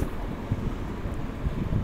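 Steady wind noise buffets the microphone during a motorbike ride through a rural village among rice fields, a continuous low rumble with no talking.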